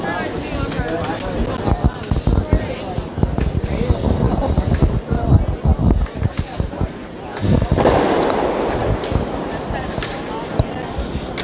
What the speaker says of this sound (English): What you're hearing in the background there is fireworks.